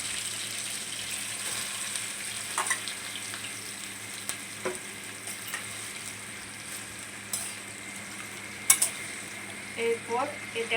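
Marinated chicken fries in hot mustard oil in a wok with a constant low sizzle, punctuated by scattered clinks and scrapes of stirring.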